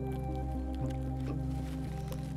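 Squishing footsteps on soggy, waterlogged ground made of plastic waste, soft wet squelches over a steady low hum.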